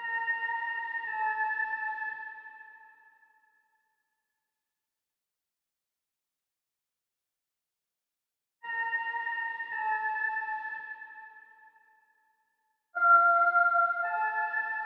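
A soft, airy whistle-like synth counter melody plays short melodic phrases in two separate passages with silence between, followed by a brief third phrase.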